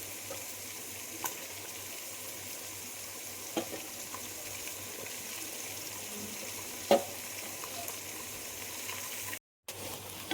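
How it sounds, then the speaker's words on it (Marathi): Onions frying in a pan for pulao give a steady, soft sizzle that runs the whole time, with a few faint clinks of utensils and a brief dropout near the end. "इकडे कांदा भाजणं चालू आहे."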